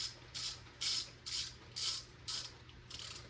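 Six quick bursts of a hand ratchet tightening intake manifold bolts on an LS engine being swapped into an Oldsmobile Custom Cruiser wagon, each rasping click-run evenly spaced and close by, with no talk over them.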